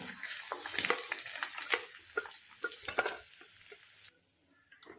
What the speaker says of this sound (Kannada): ಈಗ ತುಪ್ಪ ಬಿಸಿ ಆಗುವಾಗ ಕಟ್ ಮಾಡಿಟ್ಟ ಪನೀರನ್ನು ಸ್ವಲ್ಪ ಫ್ರೈ ಮಾಡಿ ತೆಗೆಯುವ.